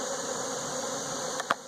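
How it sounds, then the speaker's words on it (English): Nurse bees drone in a steady, close buzz around a JZBZ queen battery, a continuous hum with a couple of brief knocks near the end. "And then all these bees over here,"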